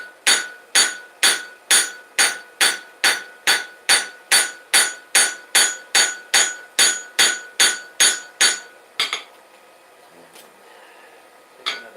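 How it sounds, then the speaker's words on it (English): The peen of a hammer strikes and stretches metal in about eighteen steady, ringing blows at a regular pace, close and loud, then stops, leaving quiet room noise. "we're going to use the peen of that awesome hammer and handle"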